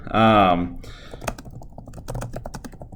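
Typing on a computer keyboard: after a short spoken word, a close run of quick, uneven key clicks and taps.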